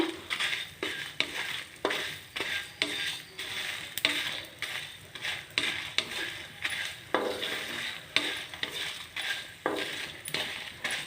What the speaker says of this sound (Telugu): ఈ ధనియాలు మిరపకాయలు స్టవ్ సిమ్లో పెట్టుకుని చక్కగా వేయించుకోవాలి కలుపుతాను